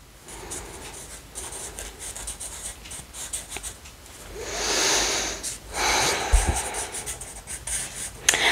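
A pen scratches across paper in quick irregular strokes, close and fairly clear, with soft rubbing and breathing between bursts and a louder scratchy stretch midway.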